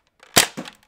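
A single sharp gunshot from the video game Call of Duty: Ghosts cracks out close and loud, then a short fainter echo follows, with no talking.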